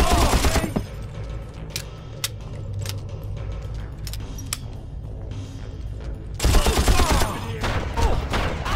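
Shotgun fire in the Far Cry video game, loud broadband blasts opening and closing the stretch with a quieter run of clicks and scattered shots in between.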